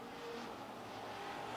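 Race cars roar around Lancaster Motor Speedway during a vintage feature, one car in a 71 Mustang body, with steady, dense engine noise of several cars racing close together, loud and continuous.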